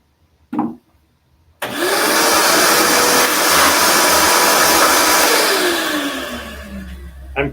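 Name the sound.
router cutting a wooden cutting board along a template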